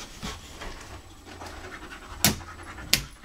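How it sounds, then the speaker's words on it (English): A mother dog panting steadily and close by as she searches for her missing puppies, with a couple of sharp clicks or knocks breaking in near the end. "The puppies have gone to the vets, and Daisy is looking for the puppies."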